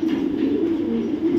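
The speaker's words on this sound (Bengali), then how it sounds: "নরটা রেস করা একটা নর কবুতর।" A male racing pigeon, a maxi racer from BLPL 2020, coos in a steady, unbroken low drone close by, with no pauses and no voices over it.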